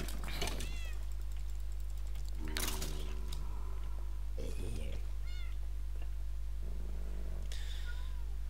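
Cats meow repeatedly inside the Minecraft game world, in several separate bursts spread across the stretch, fairly clear over a steady low background hum.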